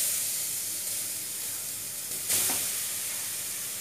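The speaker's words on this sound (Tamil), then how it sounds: "நல்லா நெய்யில் வந்து இது நல்லா வறுப்படணும்." Carrots frying in ghee for carrot halwa give a steady close sizzle, with a brief louder burst of hissing as they stir or hit the pan partway through.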